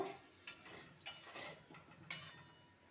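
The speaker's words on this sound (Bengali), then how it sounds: "ভালো করে নেড়ে নেব" A spoon stirring taro curry in a pot after hot water goes into the fried spice paste, giving a few sharp clinks against the metal at uneven intervals over a soft scraping bed, close and moderately quiet.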